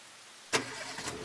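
A car engine cranks and catches after a quiet pause, a sharp start followed by a rising, uneven rev as the engine comes to life, close and fairly loud.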